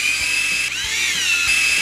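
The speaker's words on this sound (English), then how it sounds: "we're going to go ahead and drill that hole" A power drill whines steadily at high pitch, dipping briefly as it bites into material while drilling a hole for a reverse osmosis drain saddle, loud and close with no talking.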